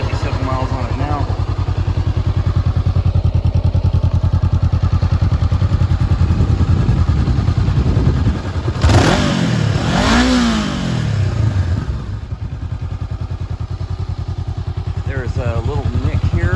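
A 2017 Honda CBR500R motorcycle idles steadily up close, then its engine is revved in a couple of sharp rising and falling blips before settling back to idle, with someone talking over it.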